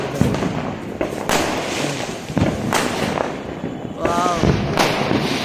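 Diwali firecrackers, dual-shot type, fire outdoors as a string of loud pops and thumps at irregular intervals, with a brief whistling rise partway through.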